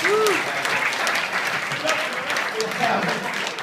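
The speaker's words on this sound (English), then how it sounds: "I think a round of applause for Chris and John" A gathering claps for two guests at what sounds like a wedding celebration, with sustained, fairly close applause running throughout and a few faint whistles or cheers mixed in.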